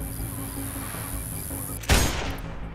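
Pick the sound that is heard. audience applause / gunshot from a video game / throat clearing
gunshot from a video game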